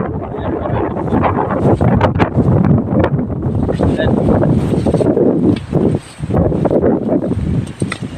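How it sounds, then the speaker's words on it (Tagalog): Strong wind buffets the microphone in a constant heavy rumble, gusting throughout while a person talks over it. "Lakas ng hangin, mga kabakyard."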